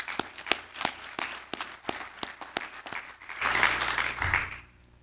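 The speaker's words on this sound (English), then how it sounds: "I think everybody should give everybody a round of applause." An audience at a rodeo arena hall of honor event claps. It starts as a string of sharp, separate claps, swells into a fuller burst of applause, then fades out.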